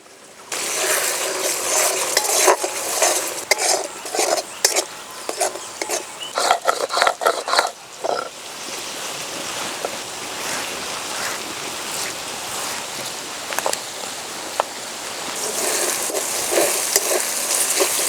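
Tomatoes fry on a low flame in a pan with mustard and poppy seed paste, giving a sustained, loud, crackling sizzle with busy stirring and scraping early on, then a smoother hiss, with no speech.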